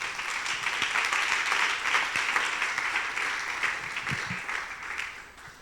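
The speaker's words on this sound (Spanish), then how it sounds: "Por favor, dale un fuerte aplauso al Señor." Church congregation giving a round of applause during a service, many hands clapping steadily at moderate distance before tapering off.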